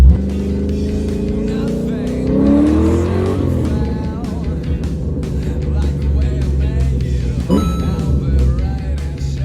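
A rebuilt Ford 306 small block V8 with aluminum heads and a mild cam revs hard and loud up close, rising and falling through several throttle blips with a sustained rumble throughout.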